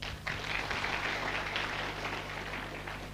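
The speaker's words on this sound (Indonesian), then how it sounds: "Tepuk tangan untuk beliau" A crowd applauds a speaker at a motivational talk, a broad, even wash of clapping that holds steady without a break, moderately loud and filling the room.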